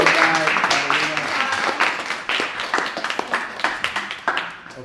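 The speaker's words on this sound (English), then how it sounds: "So let's give a round of applause" Audience applause at a creators' meetup, a burst of clapping that starts full and thins into scattered claps toward the end, with some voices mixed in.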